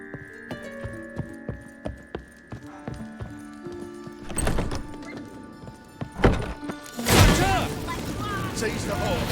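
Horse hooves clopping rhythmically in The Witcher 3, steady quick beats running under game music, followed by heavy thuds, bursts of combat noise and shouted voices toward the end.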